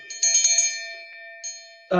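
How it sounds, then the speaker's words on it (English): A small hand bell bought from Amazon rings with a bright, clear tone, struck a few times in quick succession and then once more. The ringing decays into near silence before a voice begins at the end. "This one is a bell that I got off Amazon"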